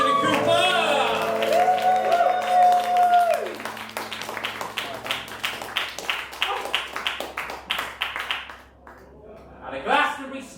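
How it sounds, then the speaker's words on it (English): An audience at a book launch claps for Jimmy Cooper, a burst of dense applause that begins as a voice fades, then thins into scattered claps and trails off. "Round of applause to Jimmy Cooper."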